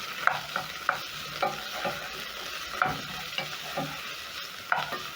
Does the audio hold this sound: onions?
yes